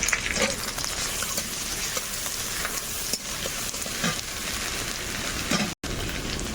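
Chopped onion and garlic frying in oil in a wok, a steady loud sizzle with crackling spatters and occasional stirring scrapes, close up and without speech.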